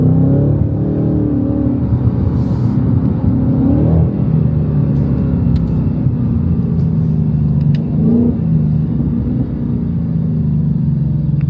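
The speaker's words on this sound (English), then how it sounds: "I'm just gonna let y'all hear the car." A Shelby Super Snake's engine rumbles with a deep, loud idle, blipping into short revs around the middle and again later, close up and without talk.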